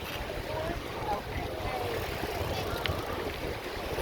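Wind buffeting while bicycling along Fort Myers Beach, a constant rushing roar with low gusty rumble throughout, close and moderately loud, with no clear talk over it.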